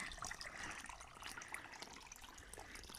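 Irrigation water runs through a farm channel with a soft, steady trickle and babble, faint and continuous, with no voices.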